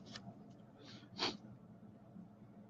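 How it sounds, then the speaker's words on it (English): A few short, breathy sniffles through the nose, one sharper and louder near the middle, against a quiet room. "excuse my allergy sniffles here"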